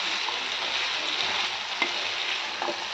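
Potato and tomato curry sizzling and frying in a pan while being stirred, a dense continuous hiss with occasional scraping clicks from the spoon, close and fairly loud, with no voices.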